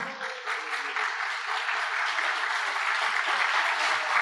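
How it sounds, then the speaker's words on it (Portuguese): A church congregation applauding during a service, a sustained wash of many hands clapping, loud and even throughout, with a faint tone humming underneath. "Aplauda o Senhor."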